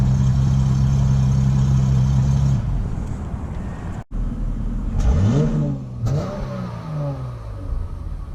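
The V6 engine of a 2018 Chrysler 300 idles with a steady hum, then revs up several times in rising and falling sweeps, loud and close, with brief dips between throttle blips.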